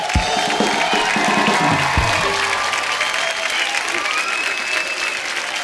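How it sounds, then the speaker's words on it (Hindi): A studio audience at a Hindi comedy talk show breaks into loud, sustained applause with some cheering, steady and dense for the whole stretch. "सनी के लिए जोरदार तालियां हो जाए।"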